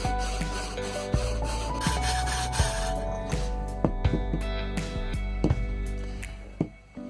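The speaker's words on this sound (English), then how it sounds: "We're going to use an ordinary cheese grater." An ordinary cheese grater rasps against plaster baby-feet casts in short, repeated rubbing strokes, close and dry, with small knocks between passes.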